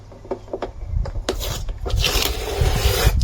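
Fibreglass spoiler edges being trimmed, a series of short rasping scrapes at first, then a longer continuous grinding rasp building in loudness, close up with no talk.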